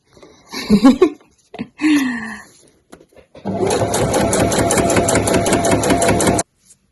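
Sewing machine stitching the side seams of a weekender bag, a steady loud mechanical run of rapid stitches for about three seconds after a few brief vocal sounds and knocks.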